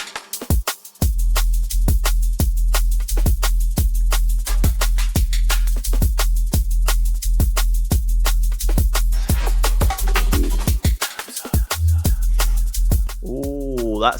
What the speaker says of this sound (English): The only other thing that I'm going to do is I'm going to add in a ride cymbal.